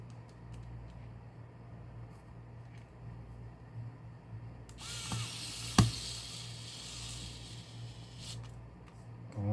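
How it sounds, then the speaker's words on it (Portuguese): A power screwdriver drives a screw into a cheap battery setup, giving a short whirring burst in the middle of a quiet room, with a sharp click as it seats, close and fairly faint. "eu vou colocar logo também o parafuso aqui pra gente já dar uma fixada"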